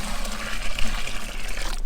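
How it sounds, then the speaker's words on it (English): Fermented chicken feed, mostly watery, is poured out into a container, giving a close, continuous splashing and trickling stream that runs the whole time before cutting off abruptly at the end. "start pouring out our new feed here"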